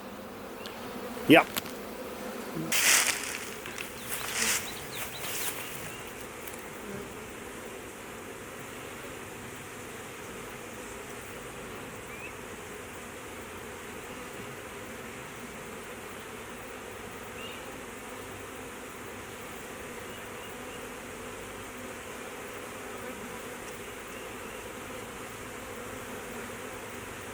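Honeybees drone steadily around an opened hive, a soft continuous buzz close by, with a few brief knocks and handling noises at the start and a single short spoken word.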